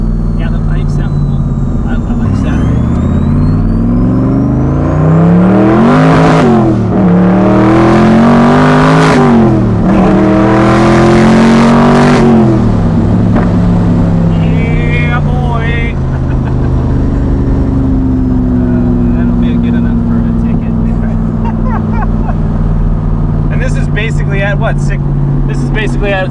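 A 1000 HP Corvette Stingray engine with exhaust pipes revs and accelerates hard in repeated surges, then settles into a steady drone on a street drive, with people talking over the engine throughout.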